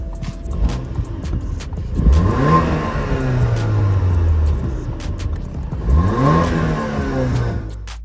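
A 2017 Audi A5 2.0L Quattro with a Stage 1 tune and aftermarket exhaust revs twice while parked, each blip rising sharply then settling into a throaty idle, close and loud.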